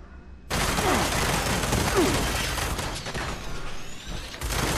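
Dense gunfire in the video game Fallout 76, a sustained loud fusillade of overlapping shots and bursts that continues for most of the span after a brief quiet start.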